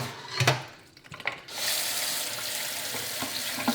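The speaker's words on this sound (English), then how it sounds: "So basically all I'm going to do now is just rinse this out until the water runs." Cold water runs from a tap over dyed macrame cord being rinsed, a steady close splashing rush that swells after a few brief handling sounds and continues without pause.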